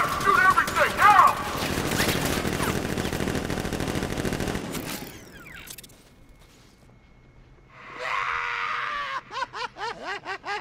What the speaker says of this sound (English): Open fire! Shoot everything, now!